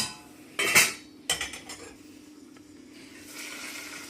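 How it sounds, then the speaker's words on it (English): Onions cooking in a pan are stirred with a utensil, giving two sharp clattering scrapes of metal on the pan, then a quiet, faint sizzle that swells slightly at the end; no one speaks. "Give the onions a stir."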